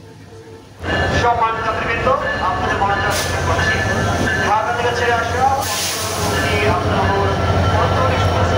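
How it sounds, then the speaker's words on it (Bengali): A train pulls into a busy airport railway station in Bangladesh on a Dhaka to Santahar journey, its steady loud rumble and rail clatter filling the platform while people talk and the station crowd murmurs throughout. "অবশেষে আমাদের ট্রেনটি কিন্তু চলে আসলো।"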